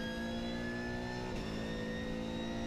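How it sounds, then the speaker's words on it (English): An Aston Martin Vantage V12 race car engine on the Nürburgring Nordschleife during the 24-hour race holds a high, steady whine that dips briefly and then climbs again, loud and close with no voices. "revving the engine as much as you can"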